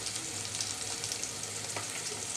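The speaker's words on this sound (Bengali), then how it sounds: "শুটকির একটা আলাদা স্বাদ হয়, সেজন্য আমি একটু তেলে ভেজে নিচ্ছি।" Dried fish frying in hot oil gives off a steady, even sizzle with soft bubbling crackle, close and moderately quiet, with no voices over it.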